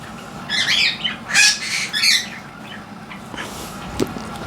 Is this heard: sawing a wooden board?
no